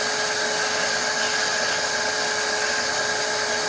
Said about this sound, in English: I'm just gonna take my shop vac over here, and we're gonna go ahead and get this all cleaned up